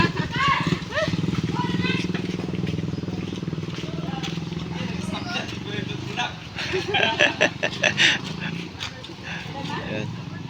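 A stalled motorcycle tricycle engine sputters into life after a push start and runs steadily up close, with voices talking over it and some irregular knocks and clatter.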